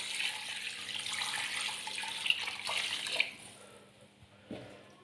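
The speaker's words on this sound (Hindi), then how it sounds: "तो इसके अंदर तकरीबन मैंने 2 लीटर पानी ले लेना।" Running water pours steadily into a cooking pot for beef paya, a continuous splashing stream of about two litres with a few clinks of the pot, the flow thinning and stopping near the end.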